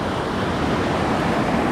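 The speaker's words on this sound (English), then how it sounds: "So the rapids are definitely going up a few notches, and this will be our hairiest one yet." Whitewater rapids on the White River in Ontario roar during a canoe run, a loud, dense, unbroken rush of turbulent water close by.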